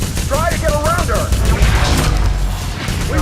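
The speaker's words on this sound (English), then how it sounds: "We can try to use the Spammer, Nilin's mid-range weapon." Rapid bursts of energy-weapon fire from the Spammer, Nilin's mid-range gun in the Remember Me video game, dense and loud throughout, mixed with chirping electronic effects and game sounds.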